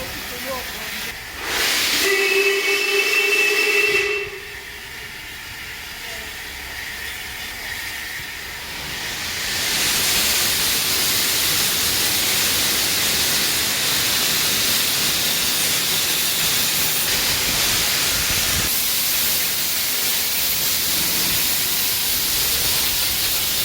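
A steam locomotive's loud, steady hiss of escaping steam fills most of the clip, rising after a quieter stretch with brief tonal whistles near the start, as the engine warms cold cylinders at a railway platform.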